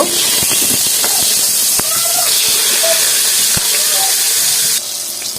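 Fish fries in a pan, giving a loud, close, continuous hiss with scattered crackles and light knocks, easing slightly toward the end.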